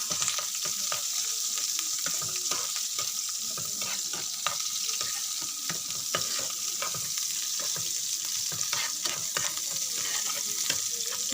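Chopped onion and other ingredients for pasta fry in a wok, a continuous close sizzle broken by frequent scraping stir strokes in an irregular rhythm, with no voices.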